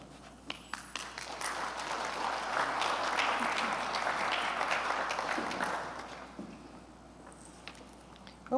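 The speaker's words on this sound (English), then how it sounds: "When was the last time you got applause for a meditation?" Audience at a Sunday church sermon applauding: dense clapping swells after the first second, holds strongly through the middle, then thins to scattered claps and fades near the end.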